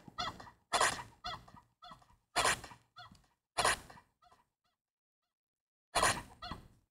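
Chickens in the survival video game Stranded Deep give a series of short, close squawks and clucks in uneven bursts, with a pause of silence before a final pair of calls.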